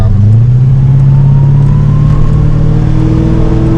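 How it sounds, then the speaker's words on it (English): A carburetted car engine revs up steadily across its rev range, a loud continuous rising drone that stays close and alone throughout. "she put on the acceleration at this point, right across the rev range"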